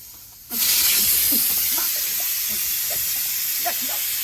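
A pressure cooker vents steam with a sudden loud, steady hiss that starts abruptly and keeps going, close by in a home kitchen, while a voice talks faintly underneath.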